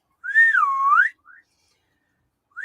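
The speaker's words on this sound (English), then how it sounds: "No, I'm only whistling." A person whistles a clear sliding tune, rising then falling, followed by two short faint chirps after a brief pause, with no talking.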